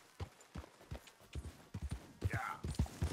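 Horse hooves clip-clopping in the video game Red Dead Redemption 2, a loaded horse walking at an uneven steady pace with fairly close thuds, the pace picking up slightly toward the end.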